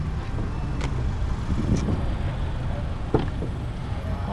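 Car engine idling faintly while waiting to pick up a student at a school in Ghana, a low steady rumble with distant traffic and a few soft clicks.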